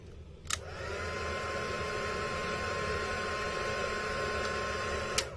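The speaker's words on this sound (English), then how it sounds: "This is a heat tool." A heat embossing tool blows hot air over flower petals for a poinsettia brooch, a steady close whooshing hum with a click at the start and end.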